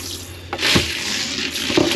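Water running into a slow-draining sink in a Jayco caravan, a close hissing pour with a couple of splashy surges and drips, no voices.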